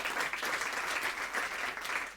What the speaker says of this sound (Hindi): तो अनन्या जी के लिए एक जोरदार तालियां हो जाए।